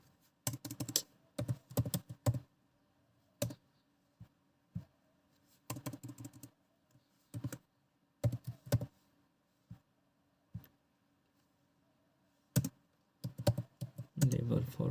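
Typing on a computer keyboard while building a create operation in Laravel 10: short bursts of close, crisp key clicks separated by pauses, with someone speaking softly in between.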